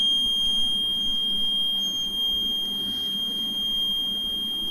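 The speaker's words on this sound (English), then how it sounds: "So the buzzer will light up and the yellow LED will light up." A health monitoring system's alert buzzer sounds a continuous, steady high-pitched electronic tone without a break, over faint room noise.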